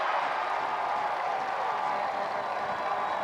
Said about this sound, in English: And you hear the roar of that crowd.